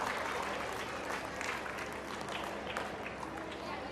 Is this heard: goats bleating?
no